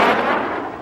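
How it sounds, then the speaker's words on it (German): A single loud thunderclap bursts at full strength and fades over under a second, a broad rumbling crack with no voices. "gibt es einen lauten Knall, den Donner"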